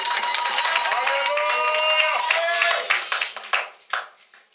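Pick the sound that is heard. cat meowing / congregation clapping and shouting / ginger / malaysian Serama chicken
congregation clapping and shouting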